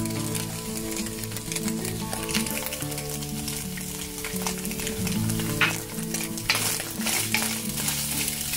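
Fried garlic and Thai curry paste are stir-fried together in a pan over low heat for a chilli-salt egg dish: a dense, steady sizzle with spatula scrapes rising and falling close by.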